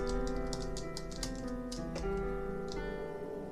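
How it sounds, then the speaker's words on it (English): Key noise from a CME XKEY Air 25 MIDI keyboard controller, with soft clicking taps sounding repeatedly over a steady sustained tone, fairly quiet and with no talking. "the clickety-clackety of the keys can get a little annoying from time to time. Here's what that sounds like with the key noise."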